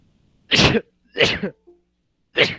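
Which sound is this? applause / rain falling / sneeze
sneeze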